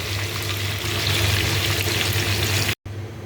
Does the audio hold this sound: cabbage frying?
yes